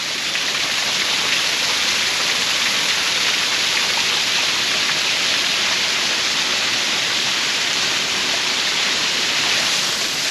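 A waterfall on Oregon's Rogue River crashes in a loud, steady broadband rush, unbroken and close, with no voices over it.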